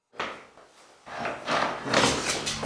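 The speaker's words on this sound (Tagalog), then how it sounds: "Gumalaw lang ang doorknob na yon" A doorknob on a door turns and rattles up close, a string of dry clicks and scrapes that grows busier and louder toward the end, with no voices.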